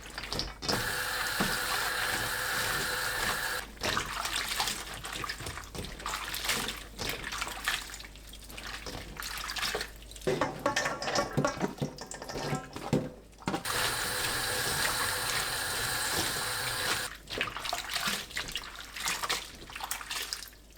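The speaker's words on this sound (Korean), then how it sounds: "헹군 무말랭이는 바락바락 주무르면서 2번 반복해서 씻어줍니다." Dried radish strips washed and kneaded by hand in cold water under a running tap, steady splashing and squishing with a continuous faucet flow, close and fairly loud, brief pauses between rounds of rinsing.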